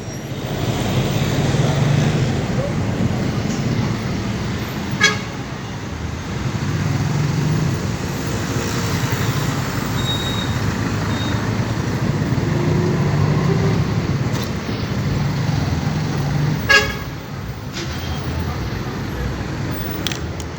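Busy road traffic in Tanoso, Ghana, heard from the back of a moving lorry: a continuous loud rumble of engines and wind with a few short sharp knocks or horn blips over the steady roar.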